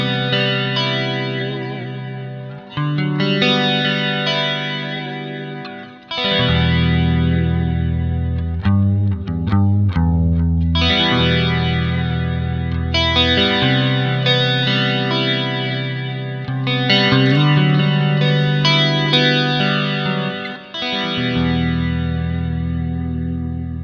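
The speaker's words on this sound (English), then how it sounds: "This is a nice chorus sound. This is called Purple Arpeggio." An electric guitar through an iOS amp simulator on the Purple Arpeggio preset, with lush chorus and a touch of distortion, plays arpeggiated chords in rhythmic phrases. It sounds loud and up front, with no talking.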